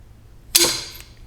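A tight fork cap nut on a Honda CRF250L breaks loose under a wrench with one sharp, loud metallic crack that rings briefly and then fades.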